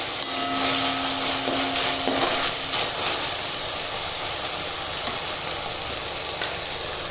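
Honey chilli potato sauce with freshly added chopped spring onions cooking in a pan, giving a steady close sizzle and bubbling with faint stirring clinks, continuous and unbroken.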